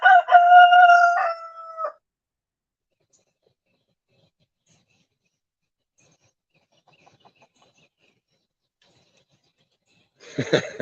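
A rooster crows loudly and close by for about two seconds, then near silence, then a second short burst of crowing starts at the end.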